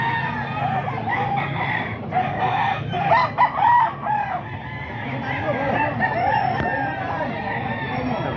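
Roosters crow in loud, drawn-out calls while hens cluck steadily among a flock of gamefowl at a seller's, the crowing repeating over a busy, constant background of birds.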